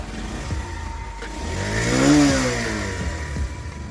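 A Bajaj Pulsar motorcycle engine, standing in neutral, fires up and runs with a swelling rev near the middle before easing back to a steady idle, close and alone with no talk.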